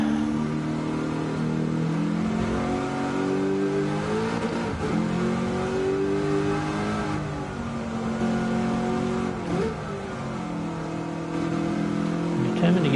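A TCM Mustang race car in a racing video game revs continuously and loudly, its engine pitch climbing and falling through repeated gear changes over a sustained mechanical roar.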